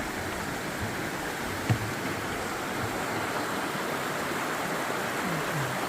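A steady broadband rush of flowing water fills the whole clip, a small creek running under a bridge nearby, constant and unbroken.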